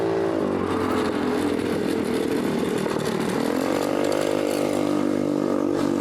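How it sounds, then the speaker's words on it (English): A small motorcycle scooter passes by with a loud, buzzing, rising and falling engine whine, steady and close throughout. "It's just a small little scooter."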